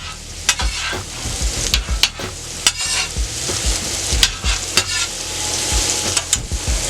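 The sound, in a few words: mushrooms being flipped and sizzling in a frying pan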